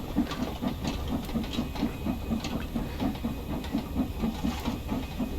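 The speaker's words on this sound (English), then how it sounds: "You can hear that the chuffing gets slower and slower." Steady, rhythmic chuffing of an LMS Stanier 8F steam locomotive in a train simulator game, climbing a steep gradient with regular exhaust beats and rail clatter, fairly loud and continuous with no talk.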